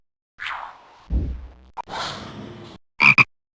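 Cartoonish frog croaks from the educational game Microsoft Explorapedia: a few short, separate calls with a whoosh and a springy blip between them, close and clear against silence.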